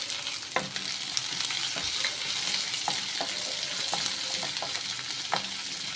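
Finely chopped shallots sautéing in oil for cucumber rice, a constant close sizzle with a spatula scraping and tapping the pan every second or so, no talking heard.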